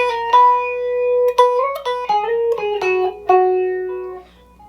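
Electric guitar plays a lead phrase from a solo, clean single notes joined by pull-offs, hammer-ons and slides, bright and close with brief gaps between runs.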